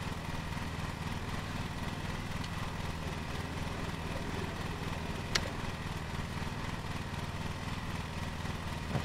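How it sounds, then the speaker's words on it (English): A riding lawn mower's engine runs steadily in a lawn mowing simulator game, a continuous low droning hum with a faint click partway through, holding an even level throughout with no talking. "We'll turn the mower on."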